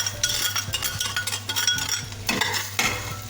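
A spoon scrapes and clinks around a pot of lentils and stock in a home kitchen, giving a close, uneven run of stirring strokes with wet sloshing and a faint simmering sizzle underneath, no voices.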